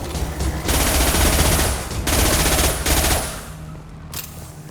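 Rapid automatic gunfire from the video game Mass Effect 2 on PS5 crackles in loud sustained bursts, three long volleys separated by short pauses, with a sharp single shot near the end.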